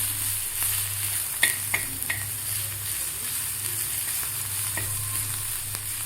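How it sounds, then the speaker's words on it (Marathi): Crushed garlic cloves fry in a pan for a Maharashtrian cluster bean stir-fry, giving a continuous close sizzle with a few light stirring clicks and taps, no voices. "लसूण थोडासा आपल्याला फ्राय करून घ्यायचा आहे."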